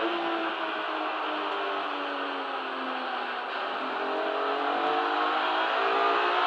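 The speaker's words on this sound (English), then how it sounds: "Too much wheel spin." A BMW racing car in the Kumho BMW Championship at Donington Park gives a sustained, high engine roar with rising revs as the tyres spin at the race start, loud and steady throughout, with no talk.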